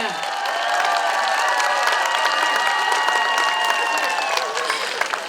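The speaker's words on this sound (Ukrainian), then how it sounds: "Оплески Анастасії" Applause and cheerful crowd noise at a folk costume gathering for the Green Holidays (Trinity), a sustained, fairly close patter of clapping mixed with children's voices and shouts throughout.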